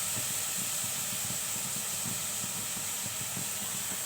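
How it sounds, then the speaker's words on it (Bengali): Red lentils frying in oil with spices for a Bengali masoor dal with jute leaves give a steady, dense hiss and sizzle, loud and continuous throughout, with faint low clatter underneath and no talking. "মসুর ডালটা আমি একটু তেলে ভেজে নেব"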